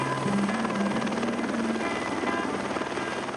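Helicopter flying over remote backcountry, its rotor thump and engine roar loud and continuous throughout, with no voices.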